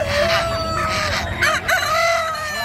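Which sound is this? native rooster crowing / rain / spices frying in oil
native rooster crowing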